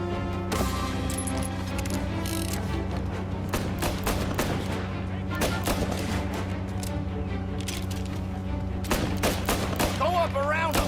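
Gunfire from a shootout with a gang at a motel in the video game Mafia: rapid, loud bursts of repeated shots and overlapping volleys run almost continuously, with game music and voices underneath.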